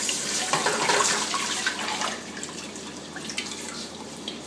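Milk poured into a pan of bubbly roux while stirring for Czech dill sauce: a faint, steady splashing pour with light liquid gurgles and spatter throughout, fairly quiet and without any talk.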